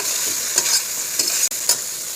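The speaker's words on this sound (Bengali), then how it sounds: "ফুলকপি দিয়ে ভালো করে নাড়ব।" Cauliflower is stirred with spices in a frying pan, with a constant hiss of frying under a few quick spoon scrapes and knocks, heard up close and alone.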